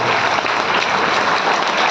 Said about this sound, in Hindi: जोरदार तालियों से आप उनका अभिनंदन कीजिएगा।